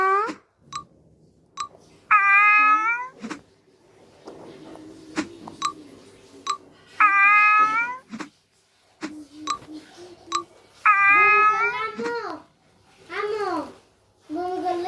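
A sick cat that has been vomiting and refusing food meows repeatedly in short, drawn-out calls, close by, with a person speaking softly in between.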